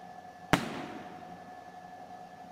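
A dynamite explosion in a video game bursts once with a sharp, loud crack followed by a fading rumble, then a second abrupt hit right at the end.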